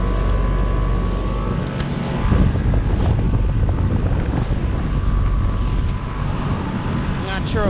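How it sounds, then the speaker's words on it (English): A 2017 Trane XR14 and a 2014 Ameristar outdoor heat pump running side by side in heat mode, producing a loud, steady fan and compressor roar with heavy wind buffeting on the microphone. "here we have an Ameristar and a Trane XR heat pump running"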